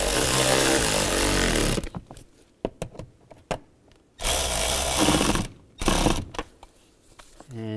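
A power tool ratchets in sharp bursts while driving screws into a dashboard panel of a 2007-2013 Chevrolet Silverado, with loud, near whirring spurts separated by short pauses and small clicks.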